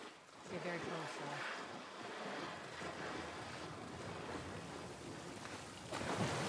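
Water flows steadily in The Last of Us Part 1, a broad rushing, wave-like wash that stays fairly constant and faint throughout, with a slight swell at the end.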